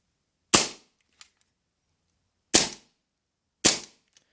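Three sharp, snappy gas-blowback shots from a custom Tokyo Marui Compact 1911 airsoft pistol, widely spaced in otherwise near silence, with faint small clicks between them.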